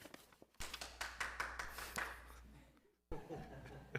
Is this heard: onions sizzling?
no